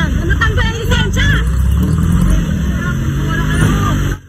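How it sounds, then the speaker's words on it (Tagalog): Passenger jeepneys jostle and ram each other on a road, their engines giving a loud, steady rumble with a rise and fall of revving, while voices clamor over the traffic noise before the sound cuts off abruptly. "Patuloy pa rin binabangga ng nasaulihang jeep ang kanyang kagitgitan kahit may laman pa itong mga pasahero."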